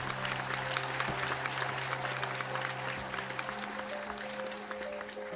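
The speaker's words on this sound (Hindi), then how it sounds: "मैं चाहूंगी कि आज एक बार फिर पूरा सदन तालियों के द्वारा बाबा साहब को" Legislative assembly in Delhi applauding in tribute to Ambedkar on his 134th birth anniversary, a continuous crowd of clapping hands under a steady hum, moderately distant and even throughout.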